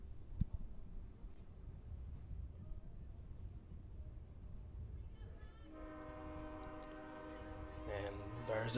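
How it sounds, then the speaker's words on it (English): A train rolls past near an outdoor college soccer match, a low rumble under faint game noise that turns into a loud, sustained horn blast in the closing seconds. "And there's the train again."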